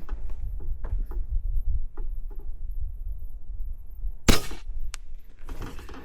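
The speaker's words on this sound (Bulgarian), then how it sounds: "Трети изстрел" A single sharp shot from an Airmaks Krait MK2 X HP .25 caliber air rifle, a loud crack that rises from quiet surroundings with light handling clicks before it and a brief rattle after.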